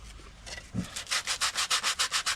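Sanding with sandpaper during a campervan upgrade, a steady series of about ten rhythmic back-and-forth rubbing strokes, close and fairly loud, after a few softer scuffs, with no talking.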